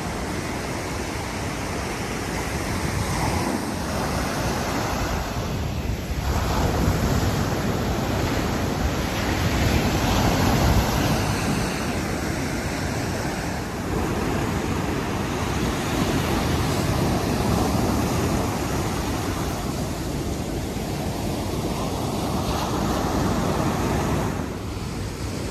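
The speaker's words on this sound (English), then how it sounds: "Some big waves. Look at that." Big ocean waves break on El Segundo beach in California, a steady loud roar of surf with broad wash and surges rising and falling throughout, no voices present.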